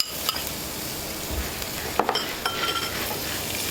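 Mahi fish searing in a pan in a kitchen feeding PGA Tour golfers at The Players Championship, a steady loud sizzle with occasional clinks of utensils and pans, close by, with no talking.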